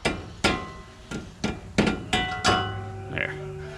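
A used metal suspension part from a 2022 Subaru Crosstrek being hammered flat, about seven close, ringing metallic blows at an uneven pace, then a fading ring and a faint clink.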